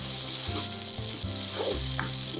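Steady, close sizzling of spices frying in a hot pan with tomato and raisins for beef biryani, with a faint scrape of stirring now and then.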